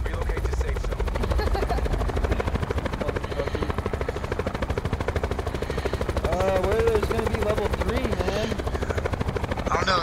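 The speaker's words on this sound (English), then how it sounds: "They're in the barn shooting at the helicopter." Helicopter rotor in Call of Duty: Black Ops 4, a steady loud thrumming whir lasting throughout, with faint gunfire and voices underneath.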